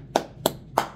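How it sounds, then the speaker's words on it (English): Three sharp hand claps, evenly spaced and close, each a crisp single slap with quiet between them. "big hand clap for that one"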